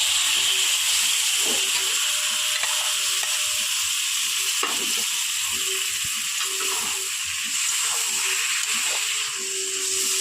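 Pumpkin leaf paste is being stirred into prawns frying in a pan: a steady, loud sizzle and hiss with intermittent scraping strokes of the spatula, and no talking.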